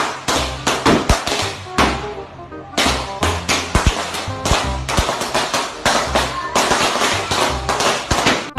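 Lakshmi firecrackers set off for Diwali burst in a rapid, loud string of sharp cracks and bangs, with only a brief pause in the middle.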